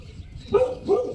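A dog gives two short barks close by in quick succession, brief and fairly loud against a quiet indoor background.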